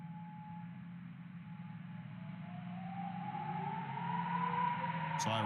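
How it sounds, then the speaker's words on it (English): An air raid siren wails during strikes on Israel, a steady tone slowly rising in pitch beneath broadcast noise, growing louder toward the end. "Sirens."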